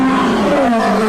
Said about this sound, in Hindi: तभी उन्हें शेर की एक दहाड़ सुनाई देती है।